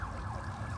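Emergency vehicle sirens wail faintly and at a distance along a Hollywood street, a rising-and-falling tone under steady low traffic rumble, with no talk.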